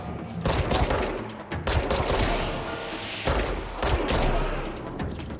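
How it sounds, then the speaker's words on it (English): Sustained gunfire in the video game Control, bursts of rapid shots aimed at the player arriving in several loud, dense waves with brief breaks between them. "did someone just try to shoot me?"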